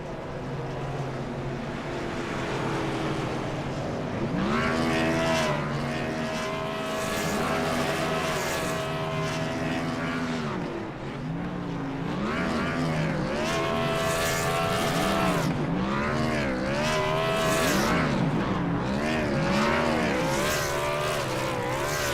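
Stock car engines in a racing game at Kansas Speedway rev and wail in long, rising and falling pitch sweeps as the winning car does a celebratory burnout, loud and continuous with no talk.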